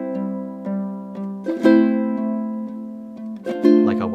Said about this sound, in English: Even as I just go and strum through the chords